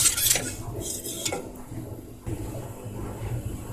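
A spoon scrapes and clinks against a pot while biscuit cake mixture is stirred on the stove, with a few sharp metallic knocks at the start, then softer stirring.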